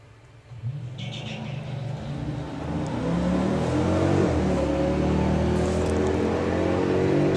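A 6.1 Hemi Jeep and a 5-litre Mercedes launch side by side at a drag strip, engines rising from a low idle into a loud, swelling roar that holds steady as they pull away.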